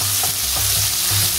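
Curry leaves with a shallot crackle and sizzle loudly in hot oil while being fried crisp for a mutton varuval, a dense, close hiss with occasional stirring scrapes and no speech.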